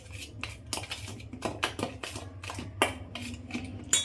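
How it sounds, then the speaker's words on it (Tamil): Ghee being stirred into a puffed gram ball mixture, a spoon scraping and clinking against a bowl in quiet, irregular taps and knocks close by. "நெய்யை இப்போ இதில் கொஞ்சமாக ஆட் பண்ணி இதை நல்லா கிண்டி விட்டுக்கலாம்"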